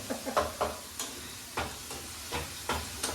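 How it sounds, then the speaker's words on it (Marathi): Onions fry in a pan until reddish-brown, a steady sizzle with periodic scraping stirs of a spoon, close and without talk. "मस्त लाल होसपर्यंत कांदा आपण भाजून घ्यायचा आहे"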